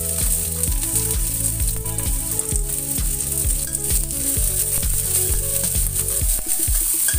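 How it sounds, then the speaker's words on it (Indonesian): Shallots, garlic and ginger stir-fry together in oil, a steady loud sizzle over a prominent background of sustained low tones with changing pitch. "Ini masukkan bawang merah, bawang putih, jahe, semuanya bumbu kita masukkan menjadi satu."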